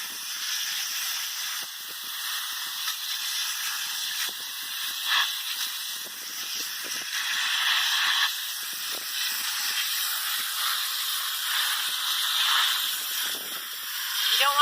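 A garden hose soaks freshly potted annual plants in a planter, making a steady, close hiss of spraying water that runs without a break, with faint small splashes and clatter mixed in.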